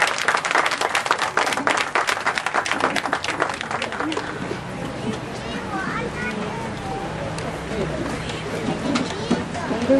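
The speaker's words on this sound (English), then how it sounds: "Once again, give a big round of applause to all actors." An audience at a school event claps for all the actors, lively and close for about four seconds, then thinning into scattered claps and chatter as the room settles.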